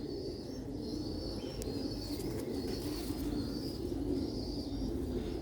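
Pigeons in a loft cooing in repeated soft, low rolling calls over a steady background murmur, with a brief wing flutter in the middle.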